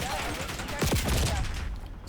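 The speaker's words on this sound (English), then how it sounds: "the sound of my own gunshots" Gunshots in the Warzone shooter game: a quick burst of several close shots with sweeping ricochet-like tones over a steady game background, moderately loud.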